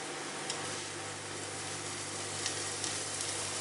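Garlic and ginger sizzle in a pan over low heat for a tarka daal, a steady, even hiss of frying with a faint low hum beneath and no voices.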